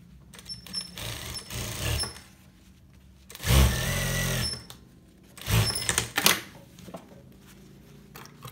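A sewing machine stitches a zipper onto a fabric pouch in several short whirring bursts separated by quieter gaps, close and clear with no voices.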